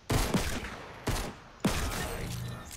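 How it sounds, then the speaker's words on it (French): Gunfire in the video game Fortnite, three loud bursts of shots spaced about half a second to a second apart, each trailing off with echoing decay, no voices over them. "Je te mets une balle dans la tête, moi."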